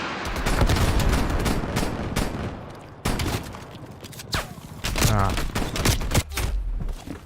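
Rapid AK rifle fire in a Call of Duty match on PC, with loud, close automatic bursts hammering almost continuously, broken by short pauses, with a brief break near the middle.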